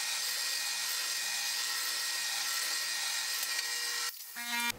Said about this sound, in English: That is a lot of drilling.